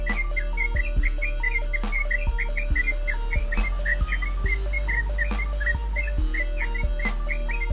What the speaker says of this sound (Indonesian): kicauan burung terucukan yang birahinya sudah stabil dan berada di puncak maksimal